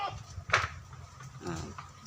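A goat bleats briefly up close, a short nasal call, with a second fainter bleat or voice following amid light background noise.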